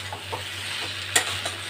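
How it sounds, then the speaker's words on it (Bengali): A spoon stirs spices frying in a pan for a Bengali pumpkin curry with sugar added, giving a continuous sizzle broken by a few soft scrapes and taps, with no voices. "এবার এটাকে আর একটু ভালো করে আমি নেড়ে নেব"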